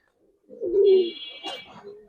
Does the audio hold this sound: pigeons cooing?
yes